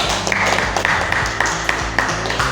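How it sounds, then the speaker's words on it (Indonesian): A class of students applauding a classmate, dense steady clapping that fills the room and stays at an even loudness throughout. "kita berikan tepuk tangan aplaus untuk Risma"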